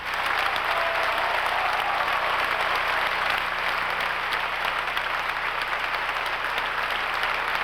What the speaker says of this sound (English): The applause that started at the conclusion of the ninth continued through 8 curtain calls.